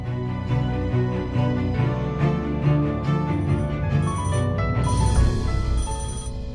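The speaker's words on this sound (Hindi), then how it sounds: "बेल तो जा रही है।" A phone ringing on the other end of a call in a TV drama scene, a loud electronic ringtone melody repeating steadily for several seconds with no talking over it.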